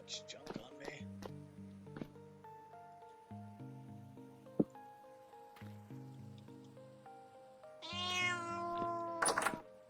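A house cat meows near the end, loud and close over game music, after a stretch of melodic tones with no speech.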